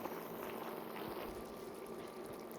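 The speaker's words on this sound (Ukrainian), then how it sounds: "Котлети тушимо до повного википання води." Steady, soft bubbling of water simmering in a pot with hake fish cutlets, a continuous low gurgle with no voices.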